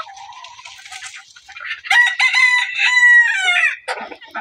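Sonali chickens on a poultry farm, with a rooster crowing loudly and close by amid clucking hens; the crow stretches over a couple of seconds before shorter clucks and calls follow.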